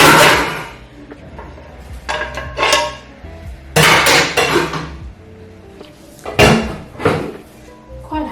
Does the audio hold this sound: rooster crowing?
no